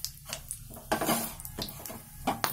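Cumin seeds, cloves and cardamom dropped into a hot pan while cooking a Mainpuri-style mixed vegetable dish: a steady crackling sizzle with a few louder bursts and faint scraping, heard close and without talk.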